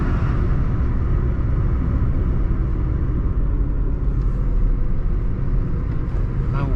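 A 2020 Toyota Aygo 1.0 with 70,000 km pulls along in third gear, its small engine a steady loud rumble with road and tire noise, a window open and traffic around.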